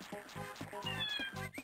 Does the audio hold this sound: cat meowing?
yes